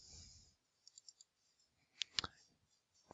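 A computer mouse clicking in input fields, giving a handful of sharp, quiet clicks in short bursts with near silence between them.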